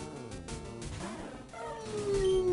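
Meowth's cry in Pokemon LeafGreen on a handheld game, a wavering, cat-like electronic call that rises into a sustained tone, heard alone over steady game sound.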